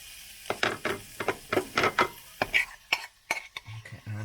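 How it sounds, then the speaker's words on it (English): Fried parsnips being moved from a pan onto a plate: a run of sharp utensil scrapes and clinks against metal and crockery, close and fairly loud, with quiet gaps between. "I'm going to transfer my parsnips onto a plate"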